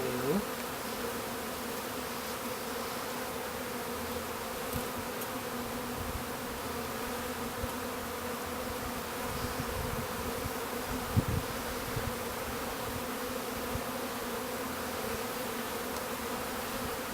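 Honeybees swarming during the installation of a new hive make a dense, continuous close buzzing hum that stays level throughout, with a few faint low thumps underneath.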